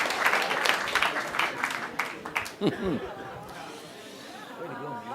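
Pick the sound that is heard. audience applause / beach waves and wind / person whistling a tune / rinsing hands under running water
audience applause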